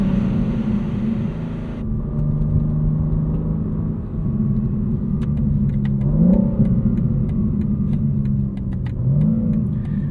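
A 2025 BMW M4 CS, the lightweight G82 coupe, accelerates from inside the cabin with a deep, steady engine drone, rising in pitch through a couple of gear changes and carrying on without talk.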